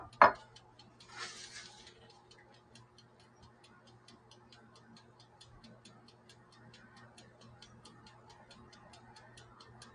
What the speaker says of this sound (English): Just like that timer on that oven.